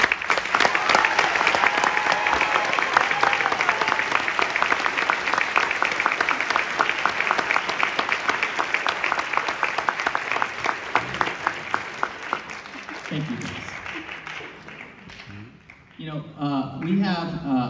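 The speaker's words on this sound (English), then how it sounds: "So please give them a warm round of applause." Loud, sustained audience applause for a high school wind symphony at a Christmas concert fills most of the clip, then fades as a voice begins speaking near the end.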